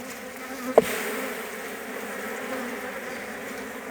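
Honey bees buzzing around an opened beehive during a hive inspection: a steady, moderately loud drone filling the whole stretch, with one brief sharp knock near the start and no speech.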